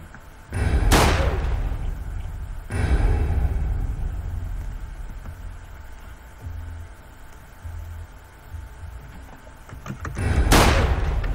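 Gunfire in the Roblox video game: a few loud, sharp broadband bursts spaced several seconds apart over a low rumbling game background.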